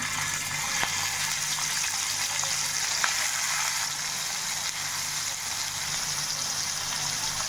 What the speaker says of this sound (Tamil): மீன் வறுத்த எண்ணெய் இருக்குது இல்லைங்களா அதுலேயே இப்போ நம்ம எடுத்து வச்ச செனை இதில் சேர்த்துக்கலாம்